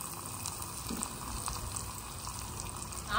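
Finely chopped onions frying in oil with spices for biryani in a small pot give a soft, steady sizzle that swells slightly at the very end.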